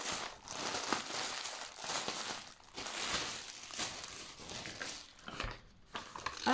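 Plastic packaging bag crinkles and rustles continuously up close while being opened, with irregular crackling bursts and soft rubbing throughout.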